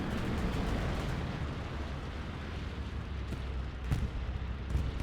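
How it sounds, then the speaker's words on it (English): Continuous roar of a bombing run in Hell Let Loose on the Carentan map, a dense rumbling wash of explosions with a few sharper blasts near the end. "That is a bombing run."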